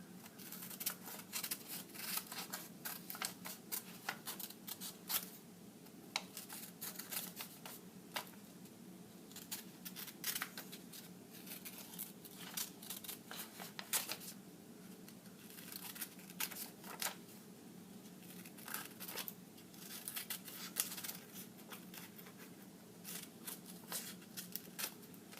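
Scissors cutting a paper map piece, a long run of quiet, close, irregular snips and paper rustles with brief pauses between cuts, no talking.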